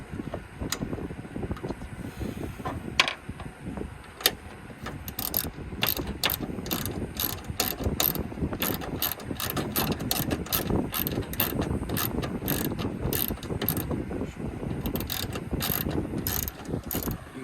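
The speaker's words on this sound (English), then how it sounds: "This is a size 10 millimeter socket to take the light off." A 10 mm socket ratchet backs off the bolts of a Toyota Tacoma truck bed light, a long run of rapid close clicks in bursts with brief pauses between them.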